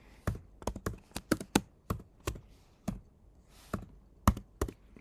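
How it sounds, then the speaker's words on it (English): Slow typing on a computer keyboard, about fifteen distinct key clicks in an irregular, unhurried rhythm, close and fairly quiet with short pauses between them. "Pretty slow typing, right?"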